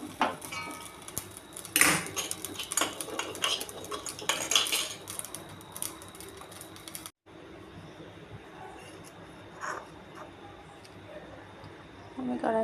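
A wok set on a kitchen stove, with metallic clanks and clatters of pots, pans and utensils in irregular bursts, louder early on and quieter after a short break, with a voice speaking over it.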